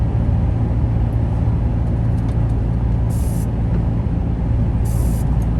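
A heavy lorry passes on a narrow Scottish road near Ballachulish, a loud, steady roar of engine and tyres filling the whole stretch with brief hissing bursts, heard from inside a nearby vehicle.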